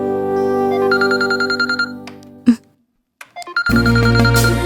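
A mobile phone rings loudly and close with an electronic tone for an incoming call from an unknown number, stops, and then a short burst of other sound follows.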